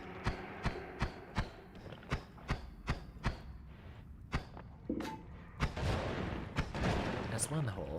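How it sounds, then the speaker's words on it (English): Explosions in the video game Noita go off in a run of about a dozen sharp, evenly spaced blasts, followed by a denser rumbling stretch of blasts, with speech partly overlapping. "Through dangerous explosions."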